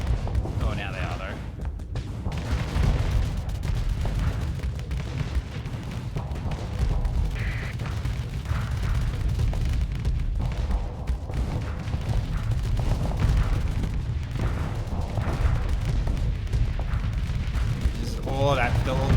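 Missiles striking ships during a space battle in Starsector, heard as a continuous dense rumble of impacts and booming weapon fire, with voices talking over the din.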